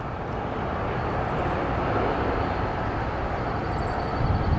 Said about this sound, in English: It's an Alaska 737 MAX 9, and that will be coming in from Kalahalui, or airport code OGG.